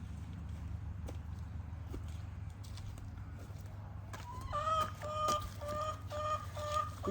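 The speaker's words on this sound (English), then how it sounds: "Here's one of my chickens." A pet chicken clucks in a garden, a few short clucks in the second half coming close and clear over a low background hum, with faint footsteps or handling noises earlier.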